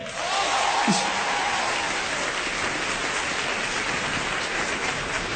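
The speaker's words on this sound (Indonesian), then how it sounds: "boleh dengar tepuk tangannya nggak?" A stand-up comedy audience claps in a dense, even wash of applause that holds steady from start to finish, with a brief whoop early on.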